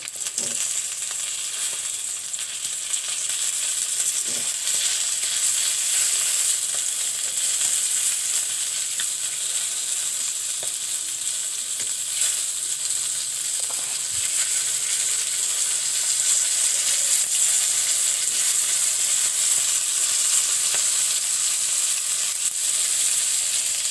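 Large snakehead fish pieces sizzle steadily in hot frying oil, a dense continuous crackle with small pops as the pieces are flipped, close and loud throughout with no talking.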